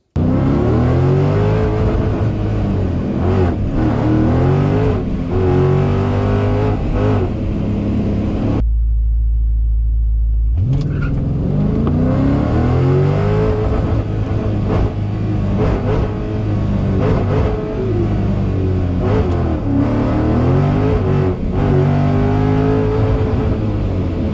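Drag race car at a season-opener event, a loud sustained engine roar with rising and falling revs, a brief cut in the middle before the engine noise returns and continues alone.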